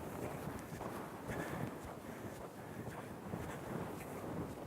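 Faint rhythmic hoofbeats of a horse moving at an easy lope, muffled under steady wind noise on the microphone.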